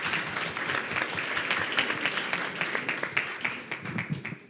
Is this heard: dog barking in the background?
no